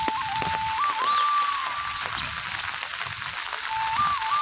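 Steady rain falling in the Konkan countryside after a heavy downpour, a dense even hiss of drops on surfaces lasting throughout, with a faint thin whistling tone drifting above it.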